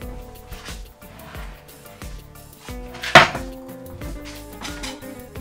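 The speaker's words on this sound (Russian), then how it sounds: "Первым делом надо все нарезать на кусочки" A knife chops carrot and cabbage on a cutting board for an Uzbek meat-and-vegetable dish, giving a run of quick, close wooden knocks with one sharper strike, over soft background music.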